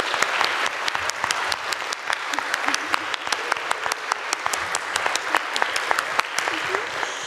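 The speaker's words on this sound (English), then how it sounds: "So I would love it if you would join me in giving another big round of applause for Dr. Karl." Audience applause for a science presenter at a university event: steady, dense clapping from a large crowd that runs throughout, fairly loud and close, with faint voices underneath.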